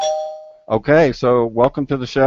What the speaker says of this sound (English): and that's the doorbell.